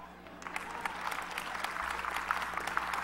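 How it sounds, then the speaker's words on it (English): An audience breaks into applause at a sermon-style talk, a sustained patter of many hands clapping that swells slightly and holds steady, moderately loud, with no speech over it. "Clap."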